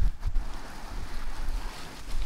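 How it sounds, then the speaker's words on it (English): Strong wind blows steadily across an open farm field where goats are kept, a dense low rumbling roar buffeting the microphone throughout with gusty swells and no talk. "Yeah, windy. The wind gets"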